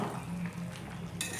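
A spoon scraping and turning chicken curry in an uncovered pot, a low simmering sizzle running underneath, with a brighter clatter of utensil on metal near the end; close and fairly quiet.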